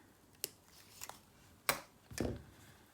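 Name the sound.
cutting wire with cutters for a beaded project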